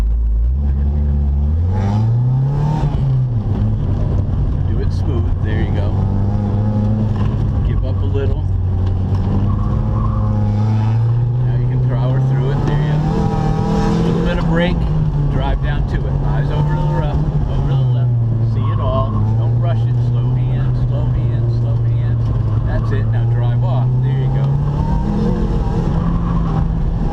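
Mitsubishi Evo driving around cones on a course, its engine droning and rising and falling with acceleration, close and continuous, with occasional tire noise while an instructor talks throughout.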